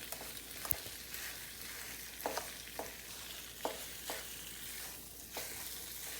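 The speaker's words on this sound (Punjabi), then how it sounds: "ਇਸ ਤਰ੍ਹਾਂ ਕੰਟੀਨਿਊ ਆਪਾਂ ਇਹਨੂੰ ਮਿਕਸ ਸਾਰੇ ਕਰ ਦੇਣਾ ਚੰਗੀ ਤਰ੍ਹਾਂ" Roasted flour is stirred with ghee and jaggery to make flaxseed (alsi) pinni. Soft, rhythmic scraping strokes of a spoon in the pan repeat about once a second over a faint sizzle, with no talking.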